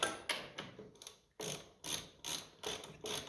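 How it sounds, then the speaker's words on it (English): A spanner ratchets bolts tight on a 1955 Ferguson 20 TED TVO tractor, giving sharp metallic clicking bursts in an uneven rhythm with short pauses between strokes, close and fairly loud. "Just get a little nip on them there before I get a spanner on it."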